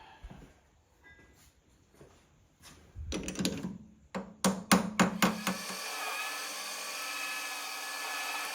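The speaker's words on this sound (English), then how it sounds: "let me get a hammer to tap it" Hammer tapping a reduction gear into place on a lathe carriage, a series of sharp metallic knocks, about six quick taps in close succession, preceded by lighter handling clatter and followed by a steady machine hum.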